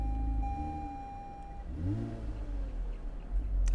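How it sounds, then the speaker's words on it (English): A 2020 Toyota Avalon TRD with a 3.5-liter dual overhead cam V6 starting up: the engine fires with a rising rev, then settles into a throaty idle that swells again at the end. "foot on the brake, button to start. Definitely doesn't sound like your normal Avalon."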